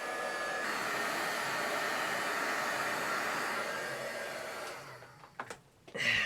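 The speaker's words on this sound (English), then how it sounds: "I might be able to dry some of that off using the heat gun" A heat gun blows hot air to dry paint on a jam jar lid, a steady loud airy roar for most of the time, then cutting off and leaving a few brief handling knocks.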